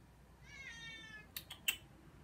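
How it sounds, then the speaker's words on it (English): A cat lets out one drawn-out meow, fairly soft and indoors, followed by a few sharp clicks or taps. No one talks. "Cat somewhere."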